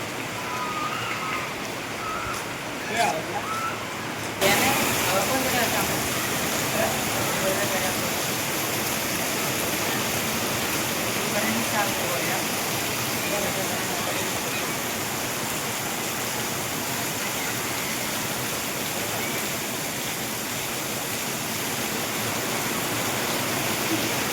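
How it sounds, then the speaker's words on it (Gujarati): Steady, dense heavy rain roars without a break over a garden during a cricket game, a broad wash of noise that swells slightly after the first few seconds and holds loud throughout. "એકદમ ફૂલ વરસાદ"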